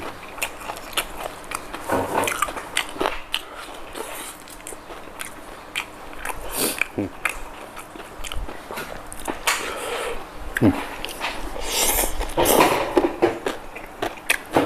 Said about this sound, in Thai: กัดน้องไก่ตามพี่น้อง